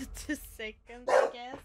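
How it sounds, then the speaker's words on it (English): A pet dog barks indoors in a few short, close yaps mixed with someone talking over a Resident Evil 2 Remake game session. "Excuse my dog, please."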